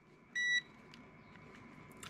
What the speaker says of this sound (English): which means that when you put the two leads together it will beep.